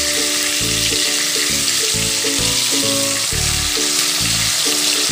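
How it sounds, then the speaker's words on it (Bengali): Tilapia pieces fry loudly in a pan of oil, a dense, constant sizzle close up, with a rhythmic pulsing hum running beneath it and no speech. "এখন আমি মাছগুলোকে বারবার উল্টে পাল্টে দিয়ে লাল করে ভেজে নেব।"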